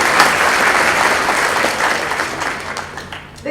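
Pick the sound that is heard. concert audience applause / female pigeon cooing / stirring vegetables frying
concert audience applause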